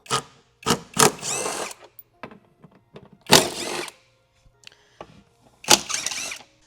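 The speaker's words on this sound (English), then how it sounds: "I'm going to remove the 8 fasteners holding the tire carrier to the Bronco." A power tool removes fasteners from a Ford Bronco's factory tire carrier in several short whirring bursts separated by pauses, with light clicks and handling noises in between.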